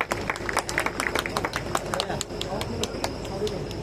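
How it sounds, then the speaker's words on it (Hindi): An audience at a gathering claps steadily and fairly close, a dense patter of sharp hand claps that runs throughout at an even level with a faint crowd murmur underneath. "ताली हो जाए भैया।"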